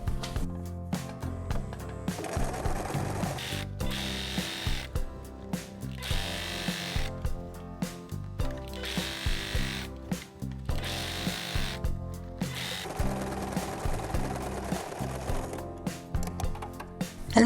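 A sewing machine hems linen trousers, its needle motor running in rhythmic mechanical bursts of rapid clatter separated by short pauses, close and fairly loud.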